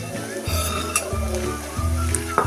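Onion-garlic chutney and lentils sautéing in hot oil, giving a close, steady sizzle with a few stirring clinks and scrapes throughout.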